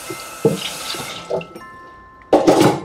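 Water from a sink splashes and drips in short bursts while greasy dishes are washed, ending with a louder rush of running water.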